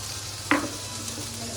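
Peanuts drop into hot oil for thecha prawns, giving one sudden crackling burst that fades quickly into a steady, close sizzle.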